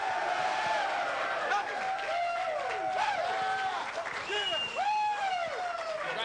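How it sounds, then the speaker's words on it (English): A big stadium crowd at the 2003 Apple Cup football game cheers and celebrates on the field after a Washington Huskies win, a steady roar of distant shouts and whoops with clapping mixed in. "Crowd continues to celebrate out on the field."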